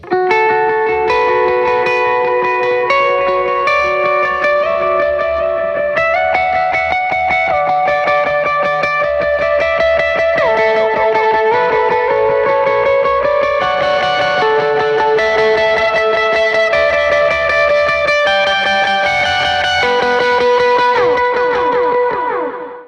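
Effected electric guitar on a pedalboard with a Tone Era Time Capsule pedal plays continuous melodic lines with delay repeats layering rhythmic echoes, loud and full throughout, with distortion and a wash of ambience.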